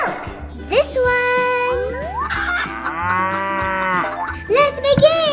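Cow mooing in a children's farm game, several long, drawn-out lowing calls rising and falling over cheerful background music, with a tinkling jingle in between.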